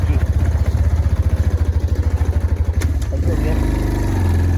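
Motorcycle carrying three riders labours uphill in low gear, its engine giving a loud, fast, pulsing throb up close that steadies into a smoother drone, with a brief spoken word over it.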